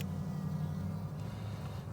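Honey bees in a hive during torpor buzz in a low, steady drone, close and soft, holding evenly through the short stretch without any talk.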